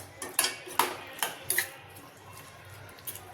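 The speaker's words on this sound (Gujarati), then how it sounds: "હવે આપણે ઉપરથી કોથમીરના પાન મૂકી દઈશું અને હલાવી લઈશું બરાબર" Spoon scraping and tapping in a pan while stirring raw mango kachumber with coriander leaves, a handful of sharp metallic clinks at an uneven pace, close up, then fading to quiet.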